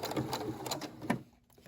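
Brother SE600 sewing machine running a short back stitch on fabric, a quick rapid mechanical chatter close up that stops after about a second.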